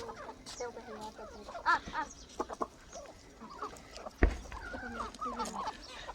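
Chickens, a Kadaknath and native village breed cross, cluck in short bursts close by, mixed with people talking and a sudden thump midway.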